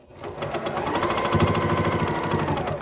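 A sewing machine stitches elastic onto a pleated fabric face mask, a close, fast and even mechanical hum with rapid regular needle beats that builds up quickly and then runs steadily, with no voices.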